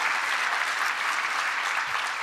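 Sustained audience applause in a hall after a co-host is introduced at a presidential event on the workforce, a dense even wash of clapping heard from some distance, no speech over it.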